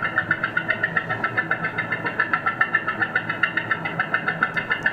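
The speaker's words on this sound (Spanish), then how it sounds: "Fíjense cómo he transformado el sonido de una cadena de bicicleta en un carro viejo con pistones." A bicycle chain sound transformed into an old car engine with pistons gives a steady, fast rhythmic knocking chug, evenly pulsed and fairly loud throughout, like a rough idling motor.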